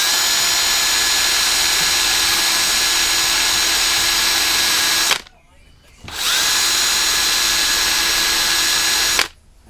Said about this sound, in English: I'm going to get a bit of sandpaper on my drill